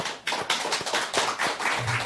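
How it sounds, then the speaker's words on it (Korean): A church congregation claps in welcome, a brief burst of dense, uneven hand applause lasting a couple of seconds. "열렬하게 환영의 박수를 먼저 드리고"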